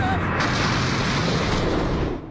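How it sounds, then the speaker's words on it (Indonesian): A cannon shell called Buggy Balls fired at village houses in the first One Piece anime episode, heard as a loud, sustained booming explosion with roaring rumble that fades at the end. "Mereka berpesta bahkan mengeluarkan meriam bernama Bagi Dama untuk ditembakkan ke arah"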